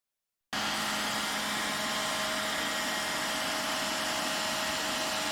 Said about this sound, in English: As a first step, provide 120 volts to turn on the inducer motor.